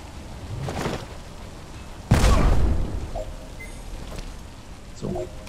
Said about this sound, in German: Aber da wir sowieso eine Granate schmeißen.